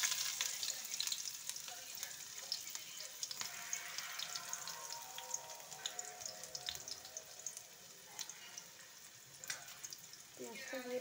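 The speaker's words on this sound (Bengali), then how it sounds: "পেঁয়াজটা দিয়ে দিয়ে লাগিয়ে নিচ্ছি, তো পেঁয়াজটাকে ভেজে নিচ্ছি" Chopped onions fry in hot oil with garlic and green chillies, a steady broad sizzle with scattered crackles and faint stirring, continuous at moderate level throughout.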